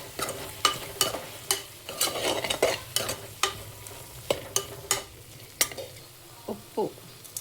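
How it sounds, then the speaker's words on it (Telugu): Prawn pulao masala with coriander powder and garam masala stirred in a pan, producing repeated sharp spoon scrapes and knocks in an uneven rhythm over a low background sizzle. "ధనియాల పొడి, గరం మసాలా ఇవన్నీ వేసి బాగా కలిపేసుకుందాం."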